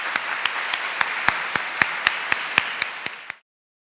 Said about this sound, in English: Please join me in applauding our partners and sponsors for making this event possible today